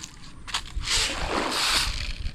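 Large tilapia splashing and sloshing the water of a farm pond, a few close, lively bursts of spray with a wet, churning quality and no talk.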